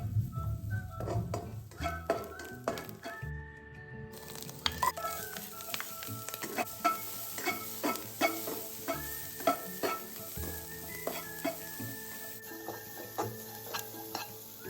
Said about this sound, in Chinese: 锅内倒入1大匙食用油，再将虾米与洋葱倒入，中火爆香。